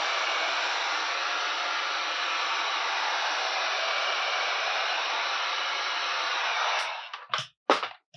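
A heat gun warms vinyl wrap on a Pro Boat Sonicwake RC boat hull, blowing a steady, loud whooshing roar for about seven seconds before cutting off, followed by a few brief handling clicks.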